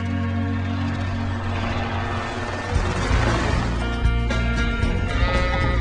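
Sheep bleating in Australia, a flock calling over a dense, steady background with a deeper rumble joining partway through, several overlapping voices fairly close and loud.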